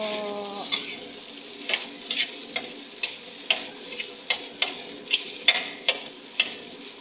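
A spatula stirs fried rice with egg in a pan, producing a soft steady sizzle punctuated by regular scraping knocks roughly every half second, close and without speech.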